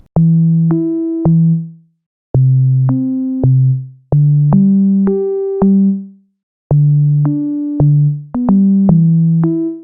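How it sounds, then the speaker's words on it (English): An FM sub bass line from the Fruity DX10 synth in FL Studio plays an Afrobeats groove an octave up: short, clean, tonal notes in a repeating syncopated pattern of four phrases separated by brief gaps, with no voices or drums. "I used the FM sub from Fruity DX10."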